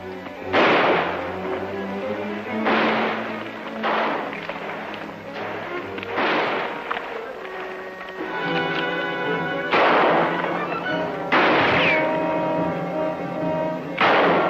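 Gunfire in a radio-drama shootout, with several loud, sharp shots spaced a second or two apart over a steady background, and a few brief bursts in between.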